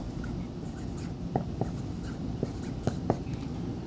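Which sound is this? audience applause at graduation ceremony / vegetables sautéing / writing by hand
writing by hand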